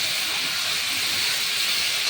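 A steady, even sizzling hiss of ginger and garlic paste frying in a pan, continuous and close with no voices.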